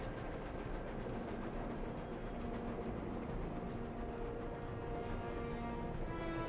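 A slow-moving train in the Captain America: Super Soldier video game, a steady continuous rumble of wheels and engine with faint rhythmic clatter, fairly loud and unbroken throughout.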